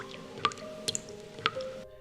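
Water dripping from a faucet at night, three distinct drips spaced roughly half a second apart over a faint steady hum, each drop a crisp close plink with no voices.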